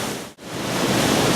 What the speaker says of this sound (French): C'est derrière moi que se trouve l'une des cascades les plus impressionnantes que Martel et ses camarades tentèrent d'esca